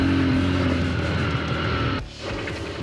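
A motorcycle rolls down a steep descent out of a village in northern Vietnam, held in first gear with light dabs on the brakes, making a loud, steady engine drone that dips suddenly near the end.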